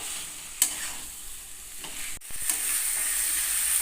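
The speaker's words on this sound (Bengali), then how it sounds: "আলুগুলোর সাথে সমস্ত মশলাটাকে খুব ভালো করে কষিয়ে নেব।" Potatoes being stirred and sautéed with spices in a pan for a curd potato dish, giving a steady sizzle with occasional scraping stirs, close and continuous with no talking.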